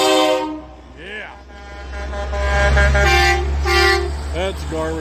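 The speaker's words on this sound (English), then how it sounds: "That's a garbage truck." A garbage truck in a Christmas parade blasts its horn with a deep, sustained honk under a low engine rumble, close and loud, while people nearby chatter over it.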